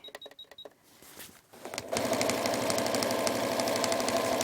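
Sewing machine stitching fabric for a window shade: a few short taps and a brief pause, then the machine runs in a fast, even, continuous whir, close and steady to the end.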